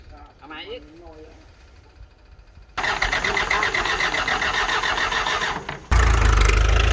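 A Ford 5610 tractor engine during a test drive starts with a sudden roar after a man's speech, runs at a steady, loud drone, then jumps louder near the end, close by.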